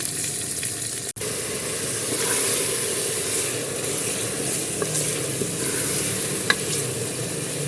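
Garlic, ginger and tomato hit browned onions in a hot pan and fry with a steady, dense sizzle; a sharp clunk sounds near the start, followed by a few light stirring taps.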